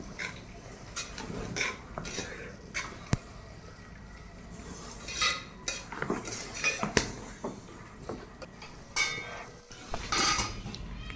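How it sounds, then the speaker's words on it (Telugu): Amaranth greens being stirred into a hot tempering in a pan, with repeated close clinks and scrapes of a utensil against the metal in irregular bursts, no talk. "మొత్తం పోపు కలిసేలాగా కలుపుకుంటున్నాం."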